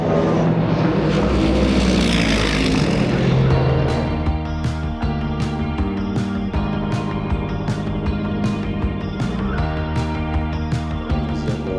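Hypercars racing at the Spa circuit, an engine roar rising and sweeping past close by, then a fast train of sharp repeated pulses like gear shifts or passing cars, loud and continuous with no speech.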